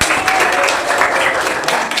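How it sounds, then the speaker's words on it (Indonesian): Children clapping together in a classroom, a short, dense burst of applause that is loud and close throughout, with no one speaking over it. "Tepuk tangan anak-anak"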